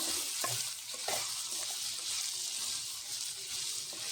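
A pan of snake gourd curry sizzles steadily while chilli powder is stirred in, with a few soft scraping knocks under the continuous frying hiss.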